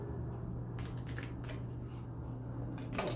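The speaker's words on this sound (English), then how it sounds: "I'm going to shuffle these one more time" Tarot cards are shuffled by hand in a few quick riffling bursts, soft and close over a low steady hum, with no talking.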